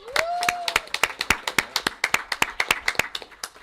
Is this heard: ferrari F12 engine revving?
no